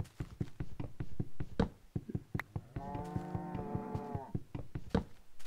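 Cow mooing in the Minecraft video game, one long drawn-out moo in the middle, surrounded by steady rapid tapping and clicking sounds of gameplay.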